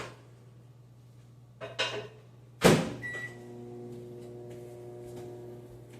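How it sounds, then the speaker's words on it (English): Microwave oven holding slices of bacon: a door clunk and a loud latch thump, then a steady electric hum with a faint beep as it starts cooking, close by with no talking. "into the magical microwave it goes"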